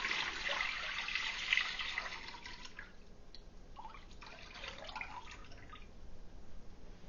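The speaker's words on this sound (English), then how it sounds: "This is the chicken bone broth that I made. We're just going to pour that in and start heating everything up." Homemade chicken bone broth pours into a crock pot in a steady, close liquid stream that tapers into trickles and drips.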